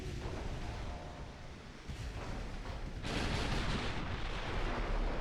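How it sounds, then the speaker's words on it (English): Warship gun volleys in the naval battle game Ultimate Admiral Dreadnought: a continuous rumbling barrage of distant booms, with a louder, harsher burst of firing about midway that carries on to the end. "Big volley on the Immortalica."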